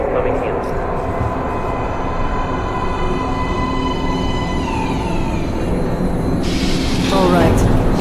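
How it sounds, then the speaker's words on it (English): A subway train rumbles steadily into a station, with a broad roar and rising wheel and brake squeals near the end; a voice speaks over the noise. "Please step away from the edge of the platform. Train coming in."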